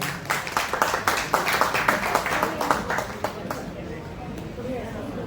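An audience at a Sanskar Bharti cultural gathering claps, a dense run of hand claps that thins into scattered claps and fades under a murmur of voices.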